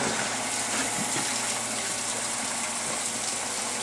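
Steady rushing water from the water ring on a Sluice Goose gold sluice, a continuous even flow with broadband hiss and low gurgle, close and unbroken throughout with no talking.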